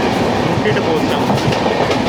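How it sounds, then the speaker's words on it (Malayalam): The Cheran Express passes at close range with a loud, steady rumble of rail cars and rhythmic wheel clatter, while a voice is faintly present underneath. "മിക്കവാറും ചേരൻ എക്സ്പ്രസ് അങ്ങനെ ഉണ്ടായിരിക്കണം."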